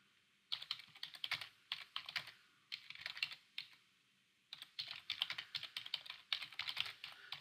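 Someone types Python code on a computer keyboard, producing quick clusters of key clicks in bursts separated by short pauses, close and fairly quiet with no talking.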